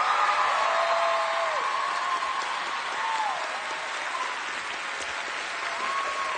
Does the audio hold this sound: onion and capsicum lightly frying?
no